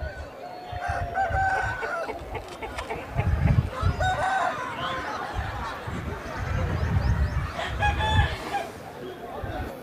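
Aseel roosters crow and cluck amid the bustle of a crowded poultry market in Balrampur, West Bengal, with several long crows rising over constant background chatter and other birds calling near and far.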